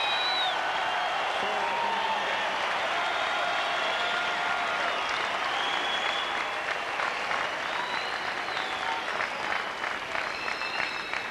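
Spectators at a tennis match applaud and cheer in a sustained, dense burst of clapping that carries on steadily for several seconds, with scattered shouts rising above it.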